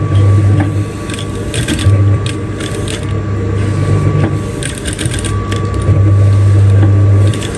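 A sewing machine stitches a decorative cut-out design on a dress, loud rapid mechanical whirring running in bursts with short pauses, heard close up with no talking.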